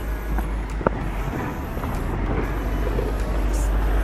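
Cars and other traffic pass along a city street, a steady broad wash of engine and road noise with a few sharper knocks. It is moderately loud and continuous, with no clear talking.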